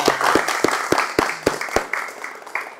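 A small group of students in an automotive vocational classroom claps in loose unison, around eight sharp claps spaced about a third of a second apart, close and clear, with a few voices murmuring underneath.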